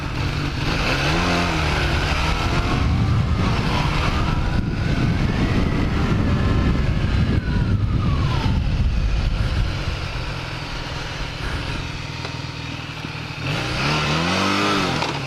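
A 1980 Kawasaki LTD440 motorcycle rides with its engine revving and shifting pitch, loud and close with heavy wind rumble throughout.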